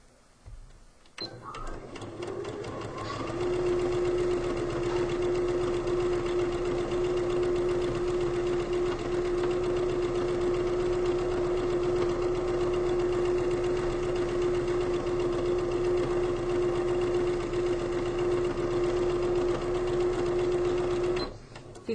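A sewing machine stitches steadily through four layers of pillowcase cotton, its motor holding a strong continuous hum with a fine rapid needle chatter for about eighteen seconds after a brief start, then stopping; nearby and loud, with no talking.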